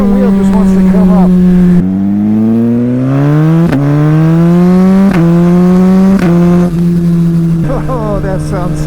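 A motorcycle with a flashed ECU accelerates hard through several rapid upshifts, each shift cutting the loud, rising engine whine before it climbs again, close and dominant throughout.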